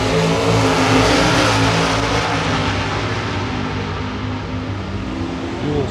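Two drag cars, a Cavalier and a 1967 Corvette, race at Gainesville Raceway, with loud engines roaring and revving continuously close by for the whole stretch, sustained and dense with no pauses.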